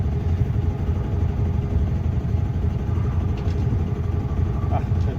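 The inboard engine of a Compass 29 sailing yacht runs at about 2,000 rpm in Sydney Harbour, a steady, loud low-pitched drone heard close up with no pauses.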